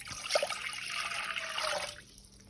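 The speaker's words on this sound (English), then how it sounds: "So you want to measure out the 3 cups of water. Take it over. Pour it into the pot." Water from a measuring cup pours steadily into a cooking pot on the stove, a soft continuous splashing and trickle lasting about two seconds before tapering off.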